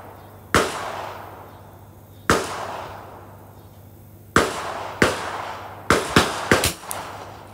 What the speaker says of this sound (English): So we continue to shoot.